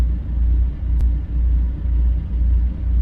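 A Cat 3406C diesel engine in a custom Peterbilt 351 in American Truck Simulator idles with a loud, steady low rumble and a faint rhythmic throb, heard on its own.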